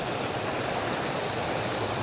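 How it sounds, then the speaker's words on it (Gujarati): A forest stream flowing in Gir, a steady broadband rush of water with no variation, moderately loud and alone. "અહીંયા એકદમ બહુ મસ્ત ઝરણા છે"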